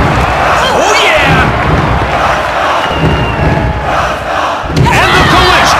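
Dense, roaring arena crowd in the WWF Attitude wrestling game, a steady loud wall of cheers and yells throughout with swelling bursts, under lively sounds of the match.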